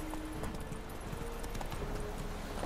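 A horse galloping in The Witcher 3: Wild Hunt, its hoofbeats drumming steadily under a dense layer of game ambience and music, moderately loud and continuous.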